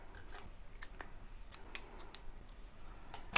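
Scissors trim waxed thread during leather sewing, giving a few quiet, sharp snips close by in an otherwise quiet room.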